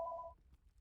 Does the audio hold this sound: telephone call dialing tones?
yes